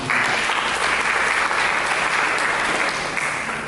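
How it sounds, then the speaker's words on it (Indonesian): Loud, dense applause from a congregation during a church sermon, a continuous wash of many hands clapping at once without pause and with no speech over it. "Berikan tepuk tangan."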